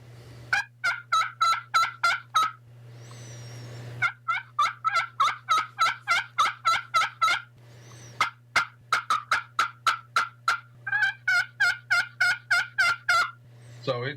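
A crystal slate turkey call played with a striker: bursts of sharp, rapid yelps in steady rhythmic runs with short pauses, loud and close over a low steady hum.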